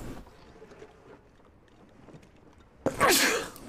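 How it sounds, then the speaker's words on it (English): A single sharp, loud sneeze bursts out near the microphone at the end, following several seconds of quiet rustling and low background noise. "I have to sneeze again"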